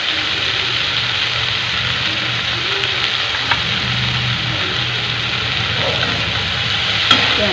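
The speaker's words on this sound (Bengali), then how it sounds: "পেঁয়াজটা ভাজা হচ্ছে।" Onions fry in hot oil in a pan, giving a continuous loud sizzle with occasional stirring scrapes and a sharp clink near the end.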